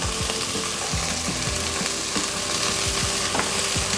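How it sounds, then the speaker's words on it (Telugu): Ginger garlic paste sautés in a pan with a loud, continuous close sizzle, while a utensil stirs and scrapes it in a quick, repeated clicking rhythm. "ఒక 2 మినిట్స్ మంచిగా సాటే చేసుకోండి అల్లం వెల్లిపాయ పేస్ట్"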